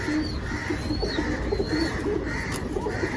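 Pigeons coo at a bird market in soft, repeated low throaty calls, close and continuous against a busy background murmur.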